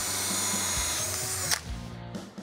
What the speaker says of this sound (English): So I'm gonna go ahead and drill a hole there.